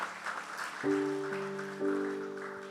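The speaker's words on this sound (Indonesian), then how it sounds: "Kasih aplaus untuk keluarga ini." Guests applaud at a holy matrimony wedding ceremony, a brief patter of clapping that sustained keyboard chords soon swell over and carry to the end.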